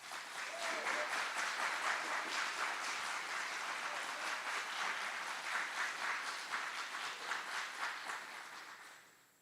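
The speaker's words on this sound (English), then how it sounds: "Please join us in giving a round of applause to these outstanding drill sergeants and instructors." Sustained applause from a large audience for drill sergeants and instructors at an army aviation graduation at Fort Eustis, dense and even clapping that carries steadily for several seconds before tapering off at the end.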